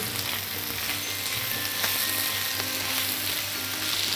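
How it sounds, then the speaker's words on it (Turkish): Eggplant börek filling, seasoned with salt and black pepper, sizzles loudly and steadily in a pan while it is stirred, with faint utensil scrapes over the continuous frying hiss. "Tekrar şöyle bir karıştırıyorum."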